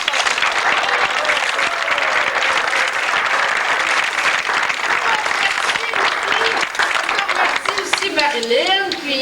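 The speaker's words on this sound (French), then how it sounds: "Alors, une bonne main d'applaudissement aussi à l'équipe." A crowd applauds the organizing team at an event at Fort Témiscamingue, with dense, loud, steady clapping throughout and voices rising near the end.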